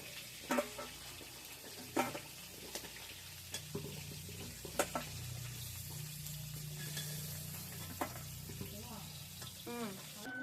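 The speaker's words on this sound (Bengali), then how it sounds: "এবার ভাজা হয়ে গেছে, এবার মাছটা নামিয়ে নেব" Pond-caught fish frying in hot oil, a steady low sizzle running throughout with sharp clinks of a utensil against the pan at irregular intervals, close and moderately loud, no talking.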